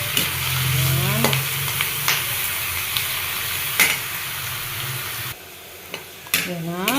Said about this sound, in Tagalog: Continue sauteing or ayan, tuloy-tuloy ang pag-gisa natin.